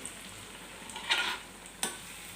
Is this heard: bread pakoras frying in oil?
yes